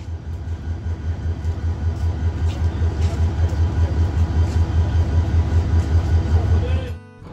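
A Jayantika Express train pulls out of Kulaura junction on the Sylhet to Dhaka line, heard as a steady low rumble and rolling rhythm from inside the coach that continues evenly before cutting off at the end.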